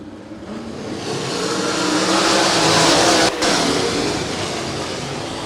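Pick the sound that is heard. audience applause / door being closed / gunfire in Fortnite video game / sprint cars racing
sprint cars racing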